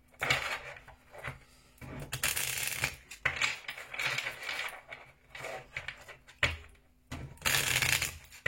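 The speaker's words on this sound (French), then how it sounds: "on prend une carte de l'oracle Good Karma" Good Karma oracle cards being shuffled in bursts of crisp riffling and flicking, close and fairly loud, with short pauses between the bursts and no talk.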